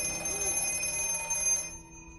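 Black telephone ringing with a steady electronic bell tone, fairly faint under a musical backdrop, cutting off abruptly near the end.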